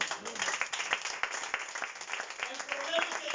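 Clapping from a church congregation, steady and fairly dense, with voices and shouts mixed in throughout.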